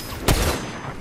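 A single sharp gunshot bursts out in a shooter video game, one loud crack about a quarter of the way in, followed by a lingering rumble and quieter game ambience.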